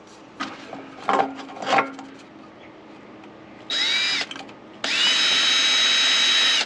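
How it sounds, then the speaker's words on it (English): A power drill boring holes in a metal shield for a hobo stove: a few handling knocks, then a short high whine, a pause, and a longer sustained drilling run, close and loud. "I'm going to put 1, 2, 3, 4 holes there and just go around, start drilling some holes"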